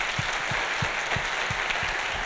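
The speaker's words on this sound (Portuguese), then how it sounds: "vamos dar uma salva de palmas muito caprichada para os pais hoje aqui." A church congregation applauds parents at a service, a dense, continuous patter of clapping from many hands with a few louder claps standing out.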